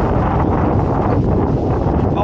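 Strong wind buffets the microphone outdoors at a rural farm site where a small Mavic Air drone is being readied, a loud continuous low rumble with no let-up and voices partly buried beneath it.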